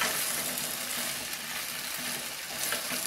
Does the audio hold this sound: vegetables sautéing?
yes